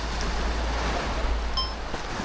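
Waves washing up on a beach shoreline in Jamaica at sunrise, a steady broadband surf wash with low wind rumble, continuous and fairly close, with a faint clink partway through and no talking.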